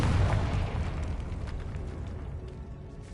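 A Confringo fire spell bursts in Hogwarts Legacy, a loud deep boom right at the start that rolls off into a long rumbling tail lasting several seconds.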